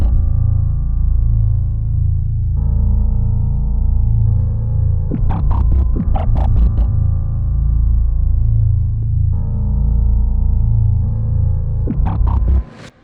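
A dark, grungy, slightly muddy bass plays under a quiet sampled piano in an FL Studio beat, holding low sustained notes with a steady, full level throughout and brief brighter melodic bursts rising over it midway and near the end.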